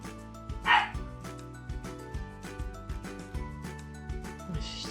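A dog indoors barks at a cat on the stairs, a string of sharp, loud barks and yips in uneven bursts with short pauses, close to the microphone.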